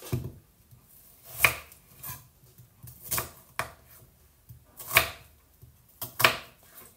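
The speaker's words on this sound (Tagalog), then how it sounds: "Yung onion, dapat malalaki yung hiwa." A knife chops onion into large pieces on a cutting board, giving a few sharp, irregular thuds with quieter taps between them, close and clear with no talking.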